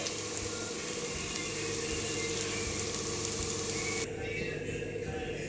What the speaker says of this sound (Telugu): ఆనియన్స్ ఇలా నూనెలో మంచిగా గోల్డెన్ బ్రౌన్ కలర్లో మంచిగా వేయించుకోవాలి